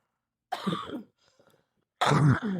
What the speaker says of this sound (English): I'm gonna step over here and cough